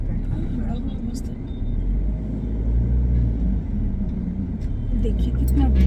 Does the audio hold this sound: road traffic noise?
yes